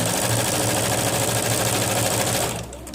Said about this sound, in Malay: Jahit betul-betul dekat bawah lipatan eh.